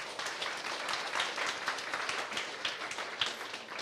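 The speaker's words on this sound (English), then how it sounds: "A big round of applause to our hosts." Audience at a business talk in a university hall gives the hosts a round of applause, dense and moderately distant clapping that holds steady without voices.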